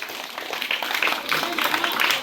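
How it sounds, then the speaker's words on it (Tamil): An audience at a balloon Christmas celebration claps in steady applause, a dense patter of hands that holds evenly at moderate loudness for a couple of seconds. "உங்க கைத்தட்டல்."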